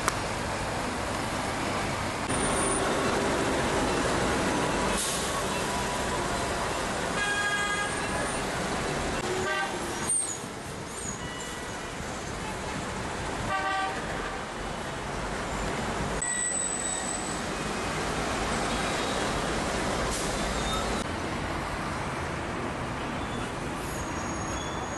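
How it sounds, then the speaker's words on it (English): Busy city traffic circles the Bell Tower of Xi'an in China: a steady wash of car and bus engines, heard from above, with frequent horn toots scattered throughout. "the bell tower is surrounded by the traffic of Xi'an"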